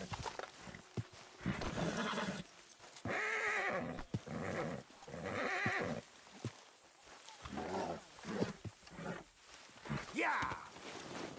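A horse in the video game Red Dead Redemption neighs and snorts amid game noise, with hoof clopping and roaring sounds, fairly quiet and busy throughout.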